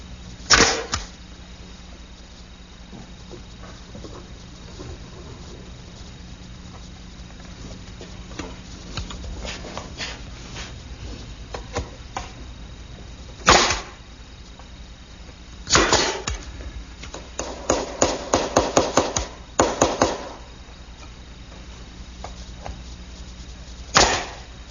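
Pine shelves seated in dadoes and fastened with 1.25-inch finish nails, sharp percussive nailing bursts scattered over a quiet workshop background, including one rapid run of closely spaced hits.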